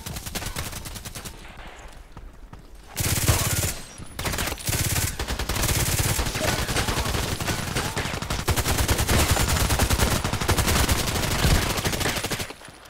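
Rifle fire in a sniper video game, sharp repeated shots in rapid bursts over a steady battle din, loudest from about three seconds onward with short gaps between volleys.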